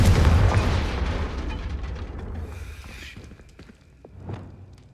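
In Hogwarts Legacy, a Confringo blast curse explodes with a heavy, booming burst that rumbles and slowly fades, followed by scattered debris crackles and a smaller thud.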